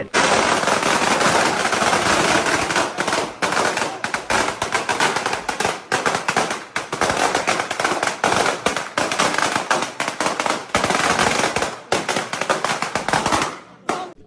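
A long, relentless string of New Year's night firecrackers crackles and pops in rapid bursts, loud and close, with only brief gaps between volleys.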